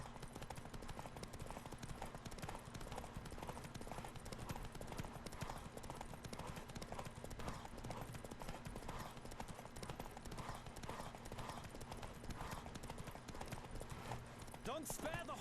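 Rapid, rhythmic hoofbeats of a galloping horse in The Witcher 3: Wild Hunt pound steadily throughout, with a voice talking over the continuous clip-clop.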